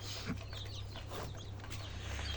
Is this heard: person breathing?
no